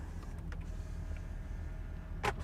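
The electric rear-window sunshade of a Porsche Panamera glides along with a faint, steady motorized hum inside the quiet cabin, ending in a brief soft clunk near the end.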